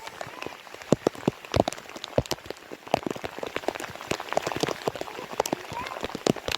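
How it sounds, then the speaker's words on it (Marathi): Rain patters down on a farm field in dense, irregular drops striking a nearby surface, steady and moderately loud throughout. "पाऊस तर भिजले सर्व"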